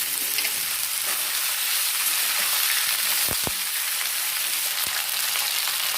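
Potatoes fry in hot oil with cumin and dried red chilli, a continuous close sizzle with a couple of brief clinks from a stirring utensil partway through, no talking.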